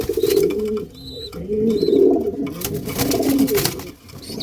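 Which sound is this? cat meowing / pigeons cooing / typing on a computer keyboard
pigeons cooing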